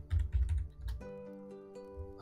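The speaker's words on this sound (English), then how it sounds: "I really hate the way I type." Rapid clattering keystrokes on a computer keyboard in a quick uneven burst, close by, followed by a quieter stretch with a sustained tonal hum in the background.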